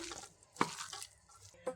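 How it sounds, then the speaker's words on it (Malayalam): Water poured into jackfruit and egg bajji batter makes faint, brief splashes and drips, two small spills standing out from a quiet background. "കുറച്ച് വെള്ളം കൂടി ഒഴിച്ചു കൊടുക്കാം."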